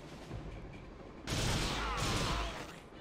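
Rapid gunfire bursts from the video game TimeSplitters, loud and sustained for over a second after a quieter stretch, with a voice speaking underneath at the start.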